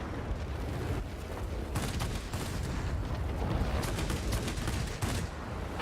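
Aircraft cannons fire in bursts from a Nakajima Ki-84 Hayate fighter in the World of Warplanes game, a rough crackling rattle over steady engine roar, with sharp volleys clustering toward the end.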